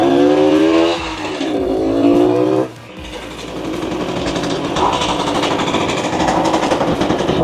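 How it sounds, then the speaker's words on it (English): A 1965 Suzuki K10 motorcycle, revived after 15 years, revs at three-quarter throttle from a low idle, its small engine buzzing up in pitch then dropping back to a rough, rattling idle, loud and close. "So I'm letting it go at a very low idle. We'll give it about 3/4 throttle."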